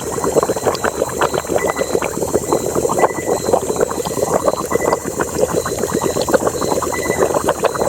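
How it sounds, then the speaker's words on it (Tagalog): Steady bubbling and gurgling of boiling water on a mountain, a dense continuous churn of small pops and splashes, close and fairly loud, with no voices. "Kumukulo-kulo yung tubig, bro."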